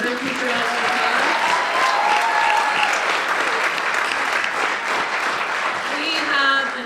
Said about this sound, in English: So let's give our staff that put this together another huge round of applause.